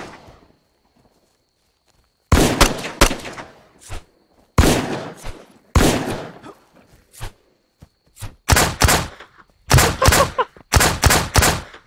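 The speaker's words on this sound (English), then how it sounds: "I am shooting" Video game gunfire crackles in loud, sharp bursts and rapid volleys, separated by short silent gaps, with the shots clustered more densely toward the end.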